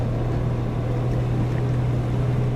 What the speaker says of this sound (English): I wish the engine was quieter.